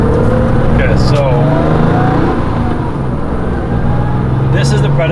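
A Porsche 993 911 Carrera RS drives along, its flat-six engine droning loud and steady from inside the cabin. Road and wind noise fill the background, with a brief rise in revs partway through.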